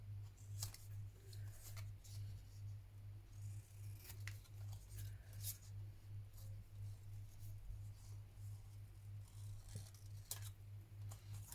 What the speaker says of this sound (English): I'm actually going to cut out that book bit that's in the middle, like so